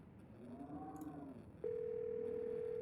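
A steady electronic phone dial tone from a video game starts abruptly and holds at an even pitch, preceded by a brief warbling electronic tone over a quiet background.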